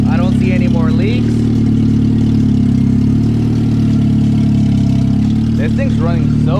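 A K-swapped Toyota MR2 idles close up with a smooth, steady low rumble that stays even throughout, while people speak over it at the start and the end.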